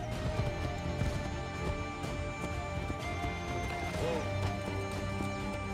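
Galloping horse hooves in the Assassin's Creed 3 video game, a quick rhythmic clip-clop running continuously over game music and ambience, with a faint whinny and some talking nearby.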